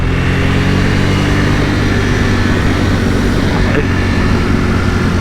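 A 2021 Ducati Panigale V4S is ridden under throttle on the road, its engine giving a loud, continuous, tonal drone mixed with rushing wind noise that holds steady throughout.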